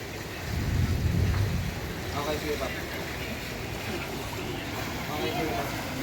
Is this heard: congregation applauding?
no